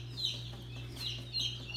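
High, thin peeping calls from baby turkeys, a few chirps spaced apart over a steady low hum, fairly close and soft.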